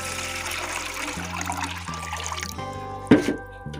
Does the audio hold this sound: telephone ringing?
no